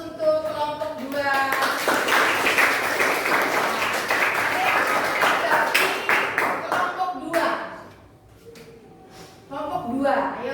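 A classroom group claps for a student team, a dense sustained round of applause that fades out, then a short burst of clapping returns near the end, with speaking voices before and around it.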